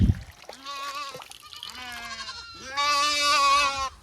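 Several goats bleat in a farm setting, a run of wavering, harmonic calls close by, one after another, the last one loud and drawn out, with no talk over them.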